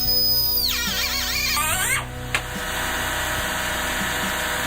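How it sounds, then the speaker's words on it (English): A cutoff wheel cuts through scrap metal engine parts in a high-pitched, loud whine that sweeps downward and wavers as the blade bites, then cuts out with a short sharp knock, leaving a steady background hum. "And then I used a cutoff wheel to cut those pieces off."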